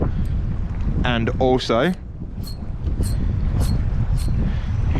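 Strong wind buffets the microphone at sea during kayak fishing off Edithburgh, South Australia, a loud steady rumble with gusts, while someone speaks briefly over it.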